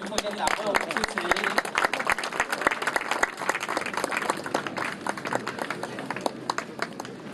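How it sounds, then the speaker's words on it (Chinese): Sustained applause from an audience at the opening ceremony of a high school baseball invitational tournament, welcoming the Chiayi County deputy magistrate to speak; many hands clap densely and steadily for several seconds. "那我们现在用掌声来欢迎嘉义县副县长吴芳明副县长为我们致辞。"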